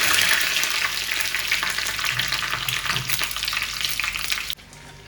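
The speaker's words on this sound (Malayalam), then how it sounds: "നമ്മൾ വറുത്ത് കൊട്ടിയിട്ടുണ്ട്." Dried red chillies and curry leaves crackle and sizzle in hot ghee for pineapple pachadi, a loud dense frying hiss that runs steadily and then drops off abruptly near the end.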